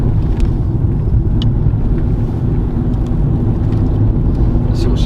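A Fiat Tipo's 1.4 engine pulls hard from inside the cabin, a loud, steady droning rumble held throughout with a few faint ticks on top.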